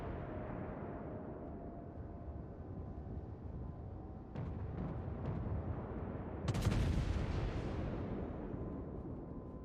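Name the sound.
naval gunfire in a warship video game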